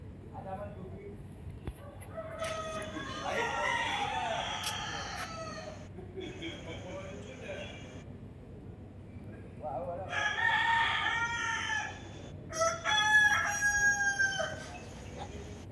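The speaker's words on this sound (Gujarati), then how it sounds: "બહુચરમાના કુકડા પણ બોલવા માંડ્યા મિત્રો" Several roosters crow at the Bahuchar Mata temple in Becharaji, with long harmonic calls repeating in bursts from mid-distance over a busy outdoor background.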